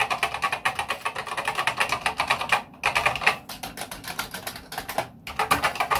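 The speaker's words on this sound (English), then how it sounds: "Very noisy, these pet keyboards" Rapid, clattery typing on a Commodore PET keyboard up close, a steady stream of key strikes with a couple of brief pauses, no voices.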